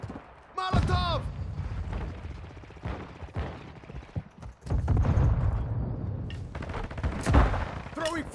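Gunfire in Call of Duty Modern Warfare 2 during a Cranked match: bursts of shots and impacts come in clusters across the clip, loud and close, mixed with game voice callouts and other effects.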